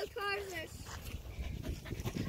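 A dog pants during ranch obedience training, quick rhythmic breaths close by, after a short whine at the start, with a person talking over it.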